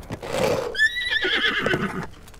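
A horse whinnies loudly in the video game Breath of the Wild: a rising, wavering neigh near and clear, followed by snorting and shuffling hoof sounds, with no talk over it.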